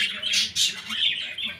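Pet birds squawking inside a breeding box where a pair has laid eggs, a run of sharp, overlapping shrill calls close by, fairly loud and continuous with no voices.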